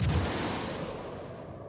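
Missiles launching and striking in the space game Star Citizen, heard as one dense booming roar that is loud at first and slowly fades over a couple of seconds, with no talk.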